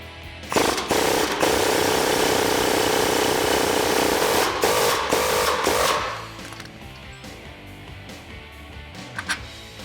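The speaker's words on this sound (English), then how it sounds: "with your 18mm socket and 18mm wrench, remove the bolt from the bottom of your shock" A ratchet or impact tool working an 18mm bolt loose from the bottom of a Jeep Gladiator shock, a loud continuous mechanical whirring that runs for several seconds, then stops, followed by a few faint clicks and clinks.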